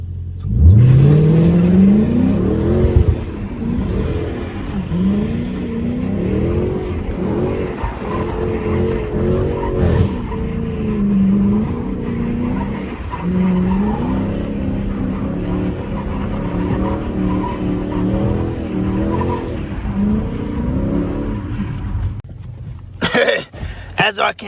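A Dodge Challenger R/T with a limited-slip differential swap revs and slides around corners on wet pavement, its engine surging and falling throughout, with some rumbling and a few noises that sound like coughs.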